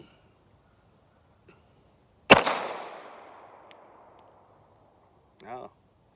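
A single sharp shot from a Kimber Micro 9 pistol cracks out loud and close, followed by a long echoing decay, then a brief faint clatter a few seconds later.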